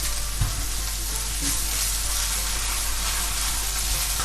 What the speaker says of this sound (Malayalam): ഈ പഞ്ചസാര ഇട്ട് നമുക്ക് ഇത് നല്ലോണം മിക്സ് ചെയ്ത് കൊടുക്കാം.